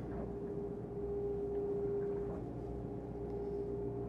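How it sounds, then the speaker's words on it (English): Inside a Princess F65 flybridge yacht under way, the twin MAN engines give a faint, steady whine with a low hum beneath it, continuous and even, heard from a quiet cabin interior. "Just the slightest of whines from those two big MAN engines."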